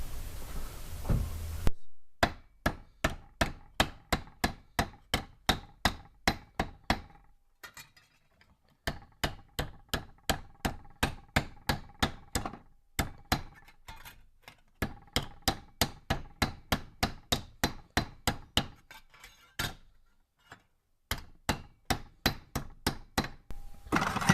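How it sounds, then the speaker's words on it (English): Rapid, regular hammer blows ringing on metal tube being beaten flat, steady runs of sharp clanging strikes separated by brief pauses. "And we'll do some beating with the hammer."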